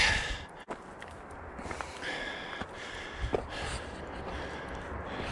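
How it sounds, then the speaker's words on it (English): Heavy, labored breathing with sharp sniffs and gasps while hiking uphill on the Appalachian Trail at Lehigh Gap, close up, over faint outdoor noise and occasional footsteps. "a lot of heavy breathing on this hike."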